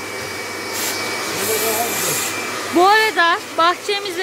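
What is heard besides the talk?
household vacuum cleaner running while cleaning a car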